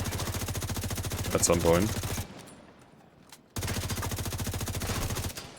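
Rapid gunfire in The Division 2 hits a cracked minigun robot dog, a steady loud rattling burst that cuts to near silence midway and then resumes, with a voice talking over the first part.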